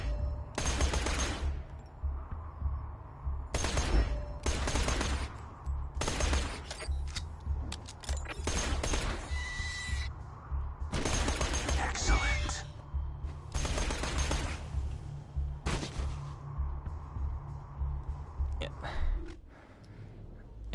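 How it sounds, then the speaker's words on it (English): Rapid SMG bursts in a PS4 video game sound repeatedly over a steady low background rumble, coming as short, sharp volleys at irregular intervals across the whole stretch. "It is a SMG that has fire, so it's pretty cool."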